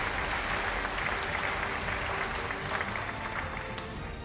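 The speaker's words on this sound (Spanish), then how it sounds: "Vamos a darles un gran aplauso." An audience at a finance education forum gives panelists a strong, dense round of applause, steady and close throughout.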